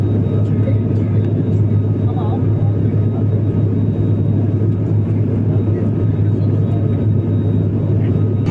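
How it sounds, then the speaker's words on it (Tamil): An Alliance Air ATR turboprop airliner during its takeoff run and climb, heard from inside the cabin as a loud, steady engine drone and rumble with a constant tonal hum that lasts throughout. "டேக் ஆஃப் ஆகிருக்கிற ஸ்பீடே பார்த்தீங்கன்னா 300 km/h தான்"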